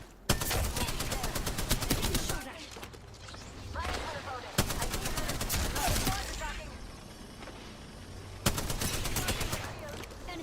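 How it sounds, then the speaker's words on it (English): Gunfire in Apex Legends comes as rapid bursts of automatic fire, three loud volleys separated by quieter gaps, with voices and other game sounds underneath. "Getting shot at."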